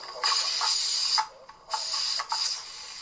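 Steam hisses from the vent of a pressure canner in bursts, loud and close, with short pauses between them and no voices.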